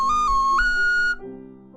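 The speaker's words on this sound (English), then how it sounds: "A very good whistle to get attention." A small six-hole ocarina blown hard as a whistle gives a loud, pure, steady tone that steps to a slightly higher pitch, holds for about a second, then cuts off, leaving only faint low background sound.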